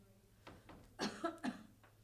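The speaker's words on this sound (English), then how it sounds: "Excuse my cough here." A speaker at an elderly services committee meeting gives a few soft coughs, one faint and then three stronger bursts close together, heard near the microphone with a low room hum underneath.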